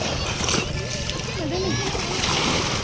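A crowd bathes in water, with splashing and sloshing over a steady wash of noise and children's voices calling throughout.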